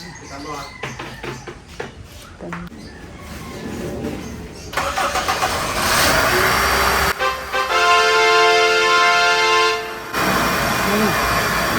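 A vehicle engine cranks over a few times and then catches and runs, settling into a steady, fairly loud idle with a brief stop and restart, while people talk during the early cranking.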